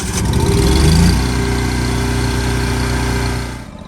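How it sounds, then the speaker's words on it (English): A machine engine, run while a winch is custom-mounted to a trailer, starts with a loud burst and then settles into a steady, close, droning idle that continues until the sound drops away at the end. "Got the machine started."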